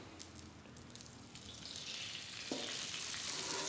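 Beaten eggs for a two-egg omelet hit a hot Blackstone griddle, and a soft hiss swells into a loud, steady sizzle with a brief splash as the pour lands.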